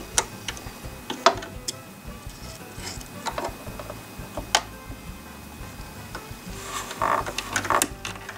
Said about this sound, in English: go ahead and remove your broken bobbin case.